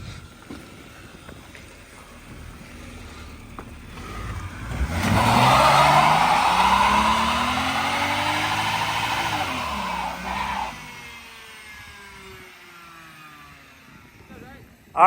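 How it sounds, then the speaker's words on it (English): A BMW E90 with an N52 engine does a burnout: the engine roars up loudly with tire squeal and rising revs for several seconds, then cuts off abruptly. "you saw what an N52 burnout looks like"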